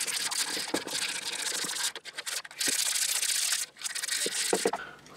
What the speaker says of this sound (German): So, noch ein bisschen von Hand schleifen.